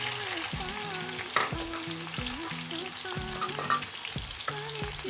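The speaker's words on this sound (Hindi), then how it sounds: "तो इसको अब निकाल के तो इसी ऑयल में हम प्याज डालेंगे और अपना मसाला तैयार करते हैं।" Onions sizzle steadily in hot oil left from frying taro root, with repeated stirring scrapes and clinks cutting through the hiss at a moderate, close distance.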